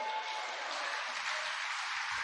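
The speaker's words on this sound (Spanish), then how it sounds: "Un aplauso." Church congregation applauds during a sermon, a steady, fairly faint wash of clapping that holds evenly for a couple of seconds.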